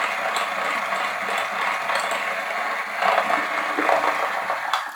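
An electric hand mixer whirs steadily through frangipane cream, a continuous mid-pitched motor drone with faint beater rattle and slight swells in strain toward the end, heard close without any talking.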